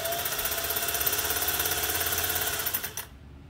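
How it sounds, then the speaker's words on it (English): A Singer 401A sewing machine winds a bobbin with a fast, even mechanical whir and a steady rapid ticking, running at a constant pace before spinning down and stopping near the end. "I always like to wind the bobbin that I'm going to be using on the machine on that machine"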